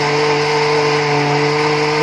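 A blender grinds soaked mung beans with water, a loud continuous motor whir with steady humming tones and a gritty churning texture, heard close and alone throughout.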